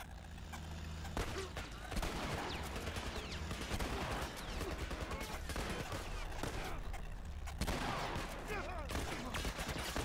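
Dense gunfire in The Last of Us Remastered, continuous overlapping shots and bursts crackling throughout, loud and near over a rumbling backdrop, with a voice speaking at moments.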